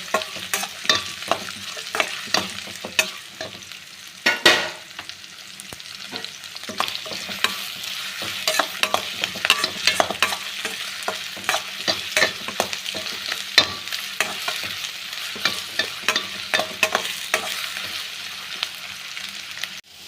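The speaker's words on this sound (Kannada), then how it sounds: "ಸೊ ಆಯಿಲಲ್ಲಿ ಸ್ವಲ್ಪ ಈರುಳ್ಳಿ ಫ್ರೈ ಆದಮೇಲೆ" Onions fry in hot oil in a pan and are stirred repeatedly, a constant close sizzle punctuated by frequent clinking and scraping strokes of the spoon.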